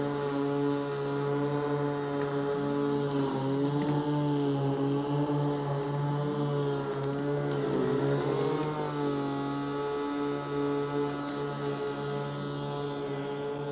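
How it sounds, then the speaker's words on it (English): A Lymow One Plus robotic lawn mower runs steadily with a constant tonal motor hum, its pitch wavering briefly midway as it works on grass, with no talking. "The robotic mower should cut the grass and not the animals that live here."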